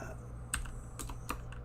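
A computer keyboard clicks in a handful of quick, separate keystrokes at close range over a low steady hum.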